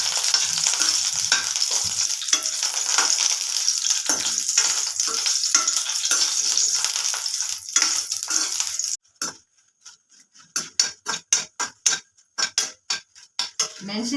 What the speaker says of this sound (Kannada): ಇವಾಗ ಬ್ಯಾಡಗಿ ಮೆಣಸಿನ್ಕಾಯಿ ಹಾಕೊಂತ ಇದ್ದೀನಿ, ಒಂದು 6-7. ನೀಟಾಗಿ ಫ್ರೈ ಮಾಡ್ಕೊಳ್ಳೋಣ.